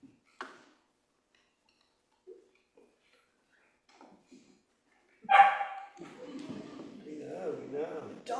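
A dog at an outdoor Blessing of the Animals gathering gives a single sharp bark in an otherwise quiet moment, followed by a sustained whiny vocal sound, with faint scattered noises earlier.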